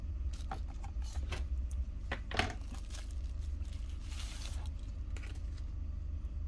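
Crinkling and rustling of packaging being cut and opened around a replacement Moto E7 XT2095 LCD display, several sharp crackles and scrapes over a steady low background hum, close and fairly quiet.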